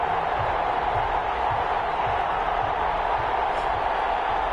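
Stadium crowd noise from a football video game, a Pittsburgh Steelers versus Detroit Lions matchup, forming a steady, dense broadband roar with a faint rhythmic low thumping underneath, continuous throughout.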